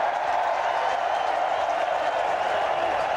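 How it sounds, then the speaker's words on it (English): Stadium crowd at a 1999 India vs New Zealand one-day cricket international, a steady, dense roar of cheering and applause holding level throughout, broad and distant-sounding with no single voice standing out. "And the crowd cheering because they can see it on the screen in the stadium here."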